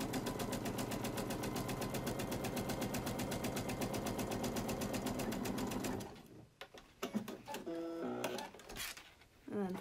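A sewing machine stitches a quarter-inch side seam on a fabric face mask, a steady, rapid mechanical hum for about six seconds, then stops and gives way to a person speaking.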